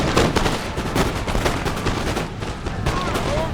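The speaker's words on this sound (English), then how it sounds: "they're firing shots right into the line" Musket volleys in Empire Total War, a dense run of cracking gunshots and rolling fusillades, loud and near, with someone talking over the firing.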